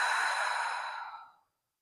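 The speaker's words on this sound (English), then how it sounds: "Exhale slowly out your mouth." A slow breath exhaled out through the mouth during a yoga breathwork session, one long soft airy sigh that fades out after about a second and a half, close and quiet with no talking.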